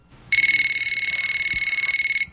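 A telephone rings as a sound effect in a Korean radio comedy story: a loud electronic trill, one sustained burst of rapid pulsing that starts abruptly and stops just as abruptly, with no speech.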